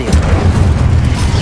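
The Incendio fire spell cast in Hogwarts Legacy, a loud, deep, rumbling blast of flame that roars steadily for over a second with no talk.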